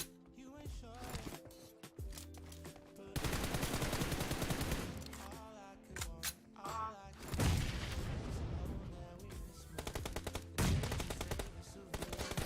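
Sustained automatic weapon fire in the video game PUBG Mobile, long loud bursts of rapid shots with brief pauses, alongside in-game music and sound effects.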